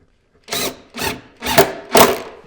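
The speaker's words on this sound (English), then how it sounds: "Let's go ahead and put a screw in, show you how it works." A power drill drives a screw into a pine nightstand top in four short whirring bursts, each rising and fading, close and loud with brief silences between them.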